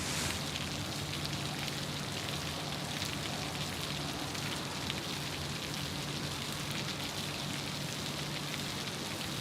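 Rain falls on the Sydney Airport airfield at night as a steady, even hiss that holds without pause throughout, with no voices.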